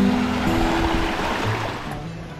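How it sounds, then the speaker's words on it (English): An Alaskan waterfall near Mahoney Lake rushes as a steady, loud broadband roar, with engine-like hum under it and no talk. "waterfall right in front"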